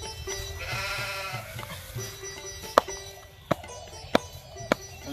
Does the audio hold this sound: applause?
no